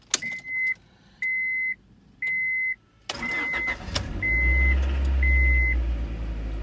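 A Honda Prelude with an H22 engine: a few repeated dash chimes with pauses, then the starter cranks and the engine catches into a steady, low idle close by.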